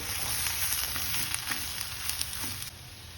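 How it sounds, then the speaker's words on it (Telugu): Mushrooms with pepper, chicken masala and garam masala fry on high flame for a street-style mushroom pepper dry, producing a steady, moderately loud close sizzle with brief scraping touches. "తర్వాత కొంచెము చికెన్ మసాలా, కొంచెము గరం మసాలా అవి యాడ్ చేసుకొని బాగా హై ఫ్లేమ్లో ఫ్రై చేయాలి"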